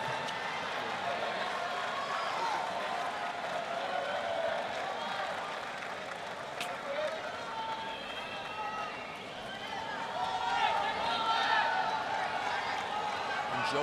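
A packed tennis crowd at the 2010 US Open final, Djokovic versus Nadal, cheers and chants for Djokovic in a steady, dense roar of many voices, swelling louder near the end.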